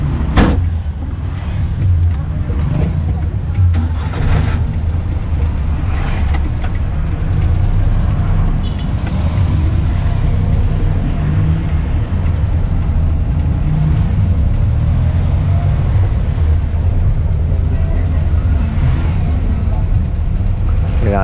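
A Daihatsu Hijet 1000 drives along with a steady low engine drone that holds throughout, with occasional knocks and rattles from the cabin and people talking over it.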